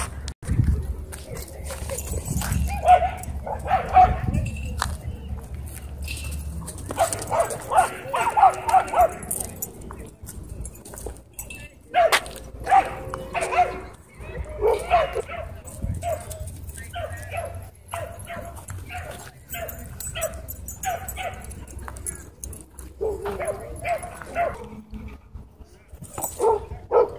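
A small white dog and a German Shepherd at a dog park, yipping, whimpering and barking in scattered bursts, moderately close, mixed with people chatting nearby.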